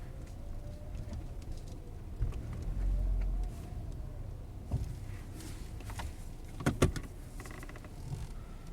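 A 2015 Subaru Outback with a CVT pulls away from a stop on a test drive: a steady low engine and road rumble with a faint cabin hum, a few swells as it gains speed, and occasional light chirps outside.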